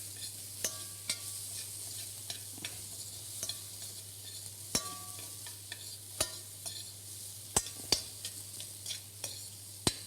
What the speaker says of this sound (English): Touch more butter. Glaze all the vegetables beautifully.